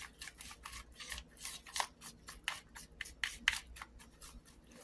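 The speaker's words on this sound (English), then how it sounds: "I thought you'd probably like to see me stirring, so I'll go ahead and give this a little mix" Steady scraping and tapping of a utensil stirring waffle batter in a bowl, a rapid rhythmic series of close, moderately loud strokes with no talking.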